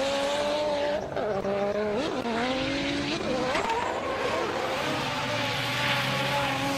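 A drift car driven by Swiss driver Michael Perrottet launches on its first competition run, engine howling and pitch swooping up and down as tires squeal, loud and sustained with a steady roar underneath.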